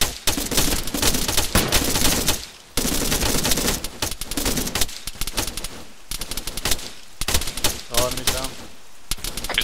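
Squad gunfire in the Arma 3 military shooter: sustained, loud bursts of machine-gun and rifle fire rattle almost continuously, with brief pauses between volleys.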